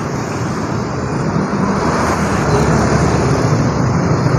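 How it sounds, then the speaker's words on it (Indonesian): A bus engine rumbles steadily on a road, a broad loud roar that swells slightly as it draws nearer, with no voices. "Terpantau teman-teman dari kejauhan ada bis"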